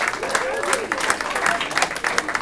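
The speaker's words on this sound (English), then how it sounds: "Let's have another round of applause for yourselves." Concert audience applauds steadily, a continuous wash of clapping with a few cheers mixed in, close and fairly loud throughout.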